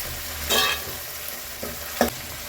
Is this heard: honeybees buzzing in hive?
no